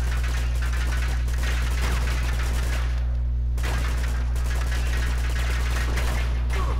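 Rapid gunfire from a firefight in the video game Uncharted, sustained crackling bursts of automatic shots with a brief lull near the middle, loud and constant over a heavy low hum.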